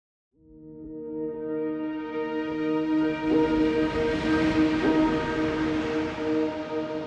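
A deep, distorted synth swell from LABS Foghorn with low-pass filter automation fades in and builds into a rich, horn-like drone with muffled upper tones, sustained and loud.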